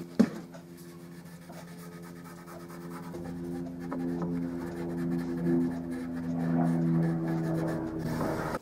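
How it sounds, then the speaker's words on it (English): Boiled linseed oil is rubbed onto the oak trim of a bedside table with a cloth, making a steady soft scrubbing sound, close up, over a low background hum. "I'm going to apply a coat of boiled linseed oil"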